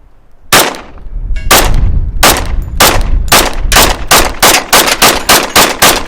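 Rapid shots from a Springfield Armory XDM Elite OSP 10mm pistol ring out, one lone report and then a steady string of about a dozen loud, sharp bangs in quick succession.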